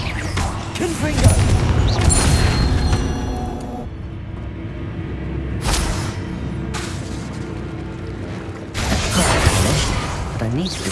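Fiery Confringo spell blasts in the Hogwarts Legacy video game, loud booming bursts with rumbling, mechanical crackle that come in several separate waves among quieter game sounds, with a voice shouting now and then.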